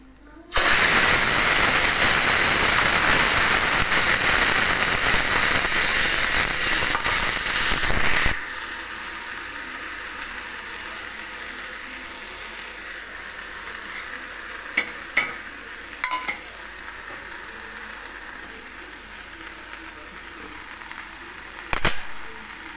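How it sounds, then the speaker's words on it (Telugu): Tempering spices with dried red chillies frying in oil, a loud, dense hiss and crackle for about eight seconds that then drops to a quieter steady simmer, with a few clinks and someone speaking briefly. "పోపు వేగిపోయింది."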